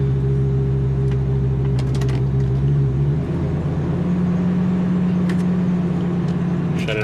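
A Ford F350 pickup engine idles steadily after a shifter cable repair, a constant low rumble with a slight drop in pitch partway, plus faint clicks, near and even.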